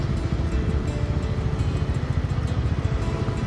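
A Royal Enfield Meteor motorcycle rides out from Panvel on rain-damaged, potholed roads, its engine a steady, rapid, close thumping that throbs evenly throughout with no voices.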